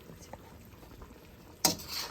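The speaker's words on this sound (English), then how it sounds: "Just continue. It's almost ready. Bubbling." Stir-fried pork with snow peas and sake bubbling in a pan, a faint soft patter of simmering liquid that swells into a louder sizzling burst near the end.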